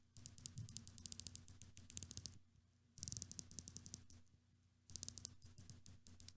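Bursts of sharp, close ratcheting clicks from a Rolex Submariner Date bezel, three separate runs of quick clicks with short silent pauses between them.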